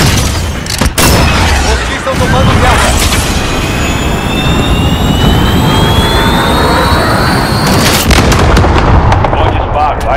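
Cruise missile launch in the shooter game Call of Duty Modern Warfare: a loud roaring jet-like whoosh with rising whine, sharp booms and gunfire cracks around it, under a short spoken line.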